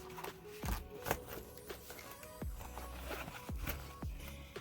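A wallet's zipper pocket being pulled in several short strokes, each a quick rasping zip, close up and fairly quiet, with small handling clicks between.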